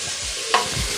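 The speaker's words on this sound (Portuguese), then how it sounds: "Ó, tô fritando aqui," Onions and garlic fry in a pan as the base for black bean stew with smoked ribs, bacon and calabresa sausage, making a close, steady sizzle with a brief stirring scrape partway through. No one speaks.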